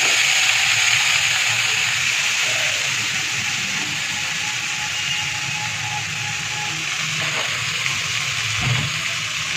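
Washed leafy greens (shak) dropped into a hot pan for a fourteen-greens dish give a steady, moderate sizzling hiss that continues for about ten seconds, with a light clatter near the end.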